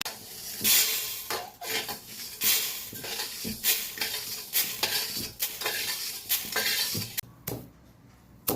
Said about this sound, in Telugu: చూడండి, ఇలా చిటపటం అంటున్నాయి. వేయిస్తుంటే తొందరగానే వేగిపోతాయి.